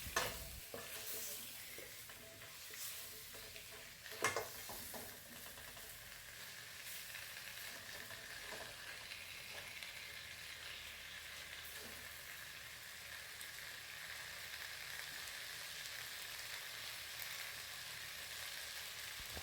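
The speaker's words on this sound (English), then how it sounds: "we're going to leave this on fire on low heat to cook so the spices can simmer into the food" Nkwobi kpomo (cow skin) simmers with spices in a fry pan over low heat, a steady soft sizzle running throughout, with a couple of faint utensil knocks near the start and no voices.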